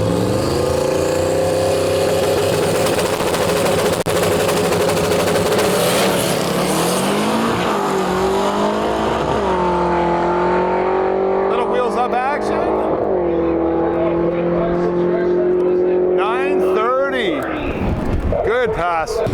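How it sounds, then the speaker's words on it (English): An LS-powered Datsun drag car launches at a dragway season opener, its V8 roaring loud and close and climbing through gear changes before fading down the strip, with a brief burst of noise at the end. "we got the LS powered Datsun about to do a hit"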